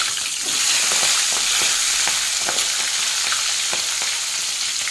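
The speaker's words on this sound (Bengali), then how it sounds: "বড় চিংড়ি মাছগুলো আগে একটু মিনিটখানেক ভেজে নেব।" Large prawns frying in hot oil with salt and turmeric, a loud, steady hiss close by with faint crackles and occasional stirring scrapes running under it throughout.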